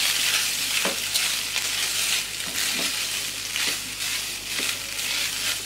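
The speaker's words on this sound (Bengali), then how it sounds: "একটু ভেজে নেবো 2-1 মিনিট।" Boiled macaroni fries in a pan of hot oil with a steady bright sizzle, broken by several soft stirring scrapes at irregular intervals, close up and with no talking.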